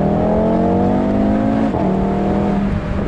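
A 2017 Audi TT RS Roadster engine accelerating hard, a loud, close, rising snarl with one brief dip as it shifts, then climbing again, with no voices over it.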